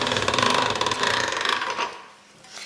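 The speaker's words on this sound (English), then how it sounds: "So when I pass it through the machine, it's nicely squared and even." A hand-cranked pasta machine rolls fresh egg pasta dough, giving a steady rhythmic mechanical whirring and clicking up close that fades into quieter rattling near the end.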